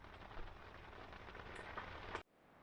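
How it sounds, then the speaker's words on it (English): Steady rain falls outside a boat, a dense, even hiss of drops that cuts off abruptly near the end. "Still raining."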